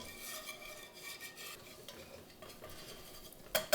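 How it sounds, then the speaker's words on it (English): A whisk works flour into melted butter in a pot, making soft, quick scraping and swishing strokes close by at low volume. A sharper clink of metal comes near the end. "So we're going to drop in a little bit of our flour. Now that the butter is completely melted. And I'm just going to whisk that dude in there."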